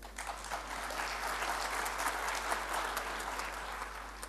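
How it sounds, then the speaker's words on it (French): Steady audience applause at a conference forum on emerging markets in Africa, a dense even patter of many hands clapping at moderate distance for several seconds, with no talk over it. "On pourrait l'applaudir, hein?"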